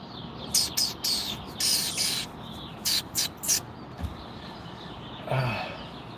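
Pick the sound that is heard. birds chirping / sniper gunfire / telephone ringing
birds chirping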